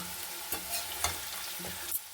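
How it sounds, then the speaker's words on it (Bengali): Rice for fried rice sizzles in a pan while a spoon stirs it, with several sharp scraping strokes at roughly half-second intervals over a soft, steady frying hiss. "সুন্দর করে ভাজা হয়ে গেছে"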